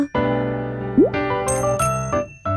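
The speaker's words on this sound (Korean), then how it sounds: "그때 띵동 띵동 초인종 소리가 났어요." A bright doorbell-style chime sounds in a children's story, with a quick rising ding at about one second followed by ringing tonal chimes and a few struck notes, clear and close with no talking.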